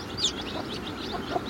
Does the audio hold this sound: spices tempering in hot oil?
no